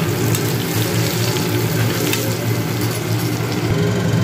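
Onions frying in a mix of mustard oil, white oil and ghee give a loud, steady hiss that fills the pan and carries on evenly, with no voices.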